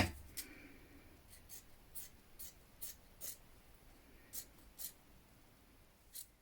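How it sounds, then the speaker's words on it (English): Scissors snipping through blouse fabric toward a placket point, a series of short, crisp cuts spaced irregularly, close and fairly quiet, with no talking. "Then we're going to cut down into this point here"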